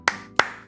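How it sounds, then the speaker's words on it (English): Three sharp, separate claps ring out at even intervals, each followed by a brief decaying tail, close and moderately loud with no voices. "I'd like to give you a round of applause"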